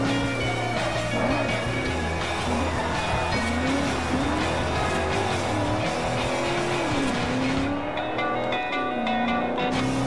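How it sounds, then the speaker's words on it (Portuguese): Tires squeal and slide on a car in the Forza Horizon racing game, a wavering screech running continuously over a steady engine drone, loud and close throughout. "Estamos patinando meia hora lá com o carro"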